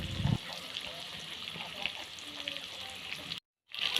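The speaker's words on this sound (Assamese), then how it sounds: "এতিয়া মই মাছখিনি দি দিছোঁ আৰু খন্তি সময় মই এনেকৈয়ে থাকিবলৈ দিম।" Fish frying in hot oil in a wok: a steady, moderately loud sizzle runs throughout, with a brief sharp sound at the start and a short dropout near the end.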